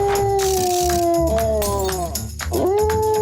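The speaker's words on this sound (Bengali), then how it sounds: "বাইরে এই কুকুরগুলোর চেঁচানো বন্ধ হয় না" In an animated show, cartoon dogs howl outside in long, wavering drawn-out notes, two voices overlapping loudly and close, with one howl dipping and rising again near the end over a busy musical backdrop.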